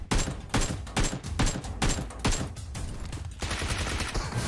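Repeated gunfire in the PUBG Mobile battle royale game, with several sharp bursts of shots at an uneven rhythm followed by a denser, rapid volley near the end, loud and close with no talk.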